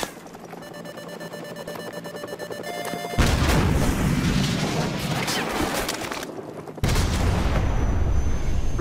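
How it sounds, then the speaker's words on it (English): A Stinger missile launcher fires at a flare-dropping helicopter in Call of Duty 4: Modern Warfare Remastered, with a loud blast and rushing roar starting partway through, then a second loud burst, after a quieter stretch of steady electronic lock-on tones. "So, grab another Stinger and fire again!"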